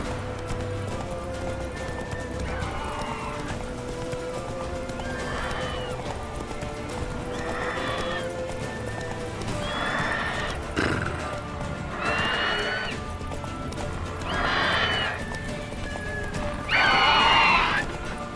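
Roach, a horse in The Witcher 3 video game, gallops with steady clip-clop hoofbeats while neighing and whinnying several times, the loudest whinny coming near the end, and faint talk runs underneath.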